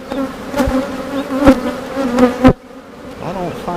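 Honeybees buzz in a beehive, their close, loud hum rising and falling, with sharp taps and knocks from the hive interrupting it before the sound drops briefly and then returns.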